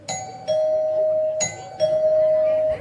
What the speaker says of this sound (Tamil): நான் நரிட்டோட்ட பேசிக்கிட்டு இருக்கும் போது காலிங் பெல் அடிக்கிறா.